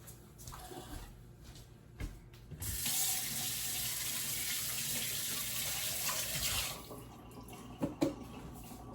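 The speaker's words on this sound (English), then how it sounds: "I need to wash my hands." A kitchen sink tap runs in a steady, close rush of water for about four seconds while hands are washed beneath it, then shuts off, followed by a few faint handling sounds.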